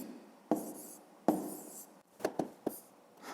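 Pen writing out a column addition sum by hand on paper in a maths lesson: scratchy strokes come in separate close bursts, a couple of longer ones followed by several short quick marks, with no talk over them.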